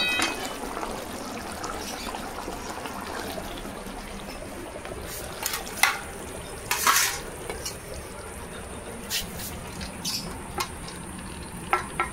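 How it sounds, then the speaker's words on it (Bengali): Fish kalia curry is poured and scraped out of a pan, with a soft continuous wet hiss and a few brief clinks of a spoon against metal, quiet and close. "দেখুন মাছের কালিয়া হয়ে গেছে, ঢেলে নেব।"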